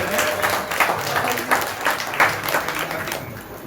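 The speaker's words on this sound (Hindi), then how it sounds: "जोरदार तालियों से उनका स्वागत अभिनंदन करें" Audience at a spiritual discourse gathering in Khadgada applauds to welcome bhajan singers, a dense, steady crowd clapping that swells and holds throughout with a few sharper peaks.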